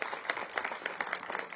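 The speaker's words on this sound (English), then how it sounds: "So let's give them a round of applause." A modest outdoor crowd claps at an elementary school groundbreaking ceremony, brief scattered handclaps of moderate loudness over a short moment.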